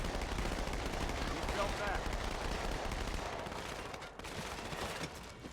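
An SMG in Halo 2 fires in dense, continuous automatic bursts amid a busy battle with other gunfire and explosions, loud and unbroken for several seconds.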